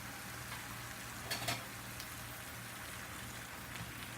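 Butter and sugar sizzle steadily in a hot pan at close range, a continuous crackling hiss with a couple of brief louder spatters partway through and no voices.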